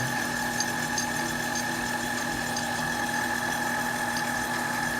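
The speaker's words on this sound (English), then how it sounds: "turn the power on there. You can see the changey gears going." A Lathemaster 8x14 metal lathe runs with its change gears and lead screw turning, producing a steady, continuous mechanical drone with a constant tonal whine and no break in level. No voices.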